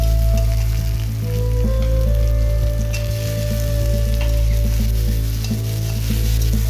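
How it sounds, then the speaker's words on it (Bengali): Onion and tomato fry in oil with green chilli paste for a Bengali soya pumpkin curry, giving a loud, continuous sizzle close by, with intermittent stirring scrapes. "পেঁয়াজ আর টমেটোটা ভালো করে ভাজবো"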